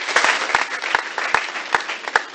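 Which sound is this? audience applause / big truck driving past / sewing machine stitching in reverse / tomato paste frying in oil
audience applause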